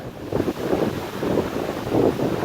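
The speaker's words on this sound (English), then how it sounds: "There's a lot of waves," Hurricane Irma drives heavy surf onto Hollywood beach. A continuous roar of breaking waves rolls under strong gusts of wind that buffet the microphone.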